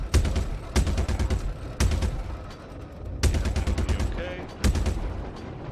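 Gunfire strikes a ship's rear shield during combat in Star Citizen: bursts of rapid impacts and shots arrive in several loud clusters over a dense, rumbling background, with a brief spoken word under the noise.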